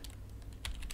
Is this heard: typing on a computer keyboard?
yes